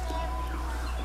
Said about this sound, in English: It's a siren. Probably a police car. Or maybe an ambulance.